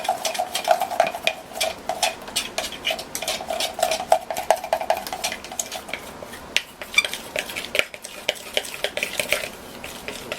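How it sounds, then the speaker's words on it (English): Soap colorants mixed with a spoon in a container of batch oils, a busy run of rapid clinks and scrapes with a faint ringing tone, close and steady. "So that's how I mix my colors"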